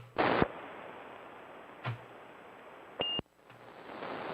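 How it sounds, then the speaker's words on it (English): A ham radio roger beep closes a transmission on a live tube-radio net: a short, steady high electronic tone lasting a fraction of a second, moderately loud, after bursts of static and hiss with no audible voice. "I hear the Roger beep at the end, but I'm not getting the audio."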